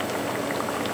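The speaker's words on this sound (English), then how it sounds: "It's more of a boiling technique that we're doing here now, but it's going to work out with this bacon because the water will evaporate soon." Bacon strips simmering in water in a hot pan, a steady close bubbling and sputtering boil that stays even and dense throughout, with no voices.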